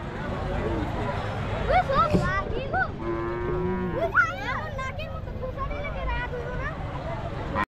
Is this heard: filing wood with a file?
no